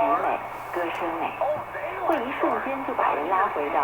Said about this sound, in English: we have what sounds a lot like Radio China coming in